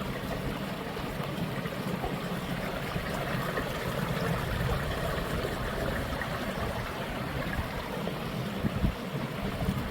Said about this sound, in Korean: 물소리 들어보세요.